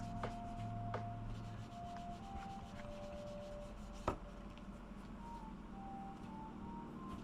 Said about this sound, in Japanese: ピカールをつけて布で磨いていきます。